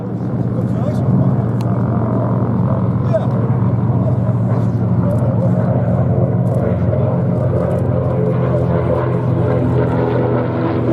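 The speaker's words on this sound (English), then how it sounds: "the North American B-25." A North American B-25 Mitchell bomber flying at the Flying Legends airshow, a loud, steady propeller-engine drone that holds without a break throughout.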